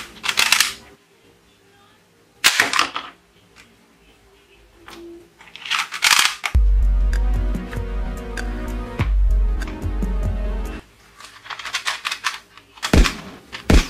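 A plastic toy revolver is tested with several sharp cap-like bangs and clicks, spaced a few seconds apart. A burst of louder clattering and rumbling comes in the middle.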